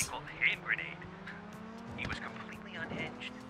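Engine of a car accelerating in GTA mobile, a steady revving drone with brief tire squeals and impacts, heard under someone talking.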